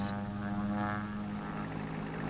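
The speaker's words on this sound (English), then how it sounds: "treatment from the air stops when the airplane approaches the trees" A propeller airplane flies low, spraying fire ant treatment from the air in 1959, its engine a steady, fairly loud droning hum that holds evenly throughout with no voices.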